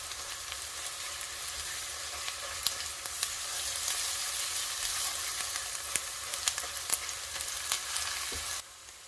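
Garlic-ginger paste sizzles steadily in hot oil for a mutton lasagna filling, a dense continuous frying hiss with small pops and crackles scattered throughout, close and fairly loud with no voices.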